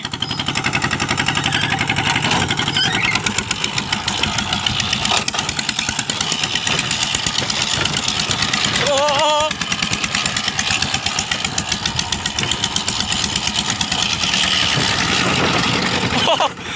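An RT100 walking tractor in second gear climbs a paddy-field embankment outdoors, its single-cylinder engine chugging loudly and continuously close to the microphone with a rapid, steady thump throughout.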